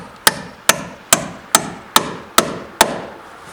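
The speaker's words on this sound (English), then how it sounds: "I like to hammer without making a great big pit in the surface" A hammer drives nails into wooden roof boards on a post-and-beam garage, seven sharp, evenly spaced strikes about half a second apart, close and loud with no talking.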